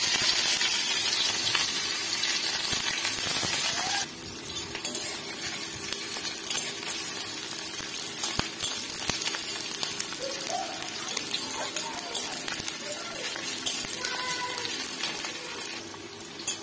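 Onions frying in a pan give off a continuous hissing sizzle, loudest in the first four seconds, then steadier and quieter with occasional light clinks.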